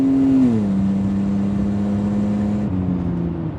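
1954 International farm truck with a Jaguar inline-six engine pulls hard in a loud, close, sustained engine drone, its pitch dipping after a shift, then rising steadily again.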